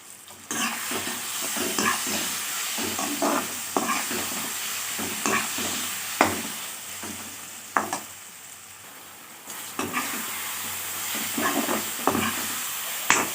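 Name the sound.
tamarind pickle ingredients frying in a pan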